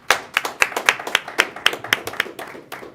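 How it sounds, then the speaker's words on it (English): A small group of board members claps at a governing board meeting, a dozen or so distinct, slightly uneven hand claps spread across a few seconds, close and moderately loud with no talk over them. "I would like the board to give you a round of applause for all the work that you do."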